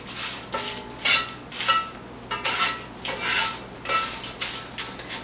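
Dried chilies roasting in a pan for hot chili oil make rhythmic, crisp rustling and scraping strokes as they are tossed against the metal, close and fairly loud, with no talking.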